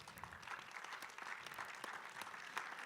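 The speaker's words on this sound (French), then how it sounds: "On peut l'applaudir, hein, je crois." Conference audience applauds after a reading, a sustained burst of clapping from a seated crowd, fairly quiet and even, with no voices over it.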